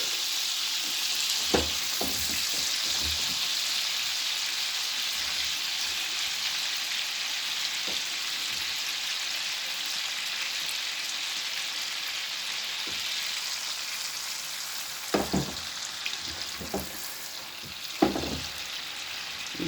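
Butter sizzles steadily in a frying pan with rosemary and garlic, a continuous close hiss of frying with occasional louder pops and spits, no voices.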